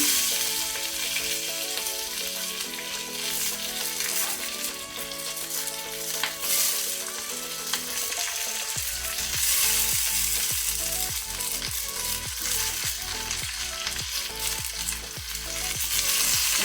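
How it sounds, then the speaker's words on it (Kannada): Chopped tindora and green chillies fry over a low-to-medium flame, with a continuous close sizzle and, in the second half, rhythmic scraping of a spatula stirring the pan. "ಲೋ ಟು ಮೀಡಿಯಂ ಫ್ಲೇಮಲ್ಲಿ ಸ್ವಲ್ಪ ತೊಂಡೆಕಾಯನ್ನು ಫ್ರೈ ಮಾಡ್ಕೊಳ್ಳುವ."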